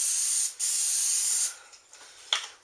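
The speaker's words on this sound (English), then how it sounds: "We're going to do the inside of the Dutch oven with spray again." Two long bursts of aerosol cooking spray hissing into a Dutch oven, separated by a brief pause, followed by a short final spritz.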